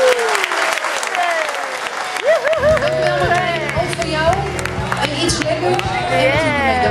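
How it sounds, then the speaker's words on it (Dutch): Loud, sustained audience applause at a First Lego League 2010 award ceremony as a prize is announced, with cheering voices and crowd babble rising over the clapping, accompanied by music starting midway. "En applaus."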